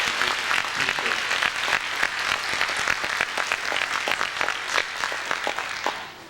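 Loud, dense applause from a church congregation fills the whole stretch, many hands clapping close by with sharp overlapping claps, easing slightly at the end.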